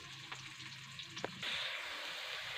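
Onion and chili fry in hot oil with a soft steady sizzle, a few faint clicks of stirring, then the hiss jumps louder and brighter midway and stays even to the end.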